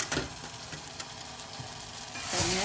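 Tomatoes sautéing in a pan for sambar, a soft frying sizzle with scattered light spatula clicks and scrapes, rising into a louder hiss near the end, no talking.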